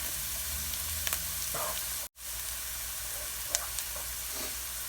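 Beet greens with garlic, ginger and hot pepper sizzle steadily in a pan, a close, even frying hiss with a few stirring clicks and one brief cut.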